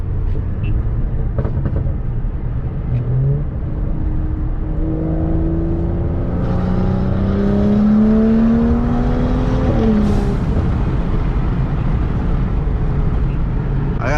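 A BMW F10 535i with a Turbosmart blow-off valve accelerates as its turbo spools up in a rising whine, exhaust burbling beneath, then a sharp whooshing vent as the throttle lifts, close and loud from inside the car.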